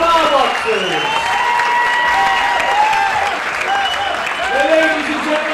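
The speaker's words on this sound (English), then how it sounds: "Ladies and gentlemen, can we please have a big round of applause for both of our boxers." A boxing-event crowd at a stadium applauds steadily for both boxers, a dense, continuous wash of clapping with cheers and shouts rising over it throughout.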